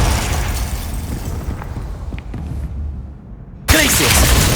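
A spell explosion in the video game Hogwarts Legacy: a low, rumbling blast that decays over a few seconds, followed by a sudden loud second burst near the end.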